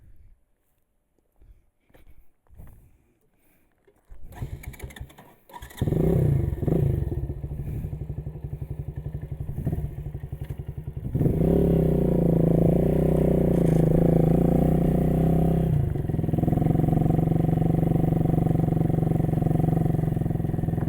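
A Janus Halcyon 250 hardtail scrambler motorcycle climbing a mountain road, with faint knocks at first, then a loud steady engine drone that rises as the throttle opens, along with rattling over rough ground.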